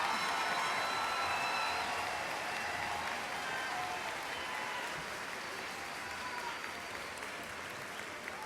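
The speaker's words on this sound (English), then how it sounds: "Ladies and gentlemen, a round of applause for the master's graduates from the College of Education." Sustained applause from a large graduation ceremony crowd honoring master's graduates of a College of Education, a dense, steady wash of clapping that holds for the whole stretch and eases only slightly toward the end.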